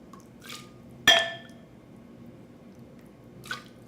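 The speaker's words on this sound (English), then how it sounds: "So I'm pouring it back into my pot" Blended dairy-free shrimp bisque is poured from a blender back into a cooking pot, with brief liquid splashes, one sharp glassy clink and a later softer splash in a quiet kitchen.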